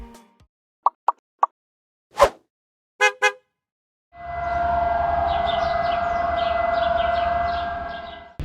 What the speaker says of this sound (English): So in case you wonder what that siren was, it's actually a minute's silence today to commemorate the death of Ataturk